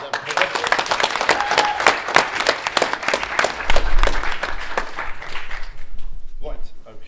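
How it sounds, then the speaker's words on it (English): Audience applause at a school business challenge event, sustained clapping from a crowd filling the room, steady and loud for several seconds before thinning out at the end, with voices faintly audible underneath. "Round of applause."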